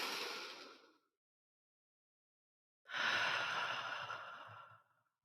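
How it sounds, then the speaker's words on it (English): Slow, deep breathing close to the microphone: a long exhale fading out, a silent pause, then another full breath drawn in and released, calm and unhurried. "Take a nice deep breath in."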